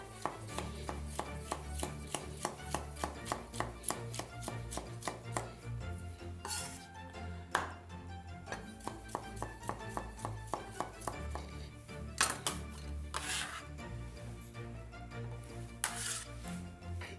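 Knife slicing vegetables on a cutting board while making Italian sausage pasta, a quick regular series of crisp chops close up, pausing briefly a few times before resuming the same steady rhythm.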